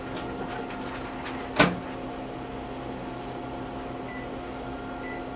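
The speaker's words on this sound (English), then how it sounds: "This is where the microwave, again, comes in really," A microwave oven runs with a faint steady hum while chocolate is melted in a bag, a single sharp click or clunk partway through, then a few soft beeps near the end.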